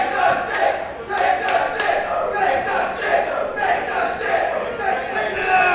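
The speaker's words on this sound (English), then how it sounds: "Lively crowd here at Matthews Bar and Grill." A lively bar crowd at a wrestling match at Matthews Bar and Grill cheers and shouts continuously, a dense roar of many voices with bursts of yelling and steady chatter throughout.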